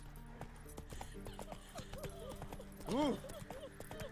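Horse hooves clip-clop steadily in The Witcher 3 video game, close and rhythmic, with a brief whinny partway through over quiet background ambience.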